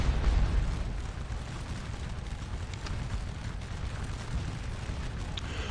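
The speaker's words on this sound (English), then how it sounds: "this square is getting torn up by artillery here" Distant Napoleonic-era artillery fire in the Scourge of War Waterloo battle, a continuous low rumble of booming cannon with a few faint sharper cracks scattered through it, heard without any talk.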